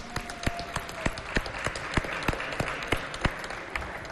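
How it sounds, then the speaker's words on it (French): Audience clapping for a dress at a fashion show in Chad: a steady patter of many hands with sharp, evenly spaced louder claps cutting through, fairly close and continuous for a few seconds. "Mais applaudissez pour la robe là."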